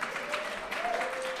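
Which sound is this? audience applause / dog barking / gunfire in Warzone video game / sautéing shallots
audience applause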